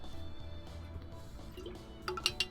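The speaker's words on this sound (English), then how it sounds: "Now I take an opportunity to have a sip of water" A person takes a quick sip of water, a few soft, close wet slurping and swallowing sounds with a small liquid drip near the end, mostly alone with no speech.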